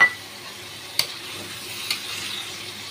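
A potato and cauliflower curry in a pan gets stirred, with a soft, low sizzle throughout and a few light spoon scrapes and taps against the pan, close and quiet.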